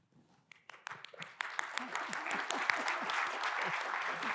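Conference audience applauding panelists as they take the stage, beginning with a few scattered claps that swell into dense, steady applause from a moderate distance.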